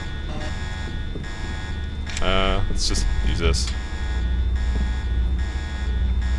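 A harsh electronic alarm blares in Deus Ex, with repeating buzzing tones over a steady game hum, while someone talks over it.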